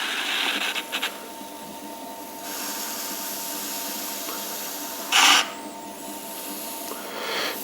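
Metal rib scraping the top of an enclosed clay form on a slowed pottery wheel, a soft continuous rasp with the wheel's hum beneath and one brief louder scrape near the end.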